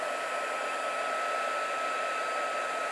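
A hair dryer blows a steady, even stream of hot air close by, drying a wet coating on engraved glass, with no other sounds over it.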